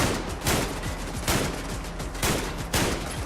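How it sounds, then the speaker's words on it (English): Video game gunfire, a dense sustained fusillade of rapid shots with several louder bursts, close and harsh. "All of my gunshots are really, really inaccurate."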